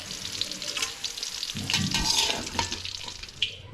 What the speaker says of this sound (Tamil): இப்போ இந்த குடமிளகாய் வந்து எண்ணெயிலே வதக்கி எடுத்துக்குவோம்